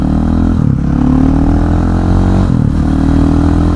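A KTM 500 EXC set up as a supermoto gives a loud, steady single-cylinder engine drone while riding, with a brief dip and pitch change mid-run and no talking.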